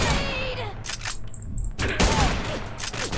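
Rapid gunfire from a first-person shooter game, volleys of shots rattling in dense bursts with a short lull in the middle, loud and close, mixed with game effects and some talk.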